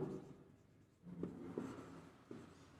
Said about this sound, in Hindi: तुरंत लिखेंगे हम लोग नाउ